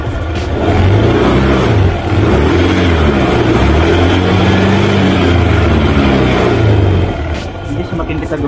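A Honda Scoopy FI scooter engine revs close by, its RPM climbing and falling in steady surges and holding loud throughout, with a voice talking over it.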